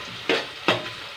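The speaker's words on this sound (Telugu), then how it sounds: "కరివేపాకు వేసుకుందాం ఒక 2 కొమ్మల కరివేపాకు" Torn curry leaves dropped into hot oil for fish curry, giving two short, sharp crackling sizzles close by, each fading quickly.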